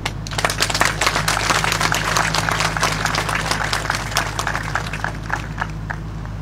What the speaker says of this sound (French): Je vous demande vraiment de les applaudir.